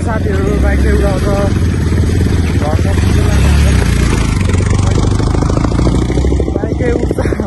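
A motorcycle rides a rough mountain road between Charikot and Magapauwa in Nepal, its engine loud and close with a constant rumbling drone and rattling, while a voice talks over the noise.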